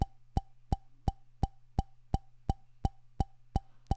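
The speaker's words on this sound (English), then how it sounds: "So I've got this pop sound here," A recorded pop sound plays back in GarageBand, repeating as eleven crisp, evenly spaced plops over a faint steady hum.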